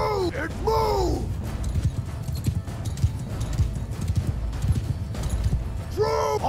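Horses galloping with steady clip-clop hoofbeats in a Mount and Blade 2 battle, broken by loud neighs at the start and end, continuous and close.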